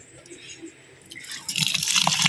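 Tap water at a mountain campsite pours and splashes, starting soft and growing into a steady, loud gush at close range, with faint voices in the background early on.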